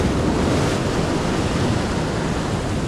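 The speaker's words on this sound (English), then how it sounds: "That's some good waves coming." Ocean waves breaking against a rocky shore, a loud, continuous wash of surf with wind buffeting the microphone, steady and close with no voices.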